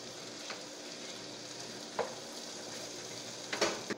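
Carrots stir-frying in a pan for fried rice with egg and ham: a soft, steady sizzle with a few brief scrapes of stirring, fairly quiet and close.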